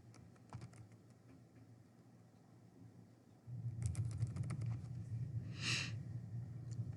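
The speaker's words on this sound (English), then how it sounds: "You can type in your name." Someone types a name on a computer keyboard, a quick patter of soft, close key taps that grows denser partway through, with light breathing nearby.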